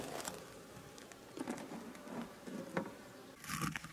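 Honeybees from an opened hive during a summer honey harvest, a faint scattered buzzing of insects near and around the entrance, with soft patter and a brief louder swell near the end.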